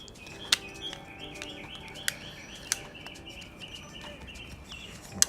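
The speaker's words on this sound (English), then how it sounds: "Sorry about all the birds and things in the background." Small birds chirp and tweet outdoors on a nice day, repeated short calls and trills at moderate distance with a few sharp clicks over a soft background hiss.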